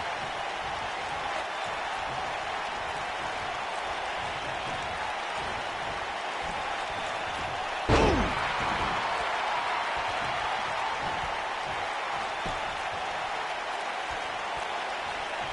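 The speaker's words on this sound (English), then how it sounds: "by the sound of this crowd, I think they're getting what they wanted" Crowd noise in the WWE 2K19 wrestling video game, a steady broad roar of cheering throughout with a sharp louder burst midway, no talk.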